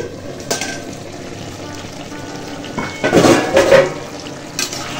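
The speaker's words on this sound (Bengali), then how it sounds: "এবার আমি ঢাকনা খুলে দেখি" A metal plate used as a makeshift lid is lifted off a pan of cooking chilli chicken, giving a short clatter followed by a brief burst of sizzling over a low kitchen background.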